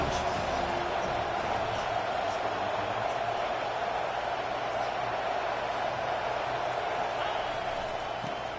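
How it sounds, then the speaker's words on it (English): A football stadium crowd at a Penn State game keeps up a dense, steady roar of cheering and noise from a large distance, broad and unbroken, with a commentator talking over it. "this crowd is turning it up a notch"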